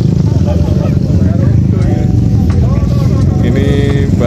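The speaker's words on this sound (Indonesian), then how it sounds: "Ini banyak motor yang trail yang lagi kita pakai sekarang" Several trail motorcycles ride on the slopes near Mount Bromo, their engines giving a dense, steady rumble close by, with voices talking over the engine noise throughout.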